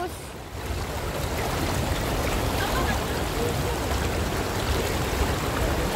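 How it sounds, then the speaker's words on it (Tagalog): Strong river current rushing under a bridge: a steady, loud broadband wash of flowing water close by, continuous for the whole stretch without a break. "Ang lakas ng agos."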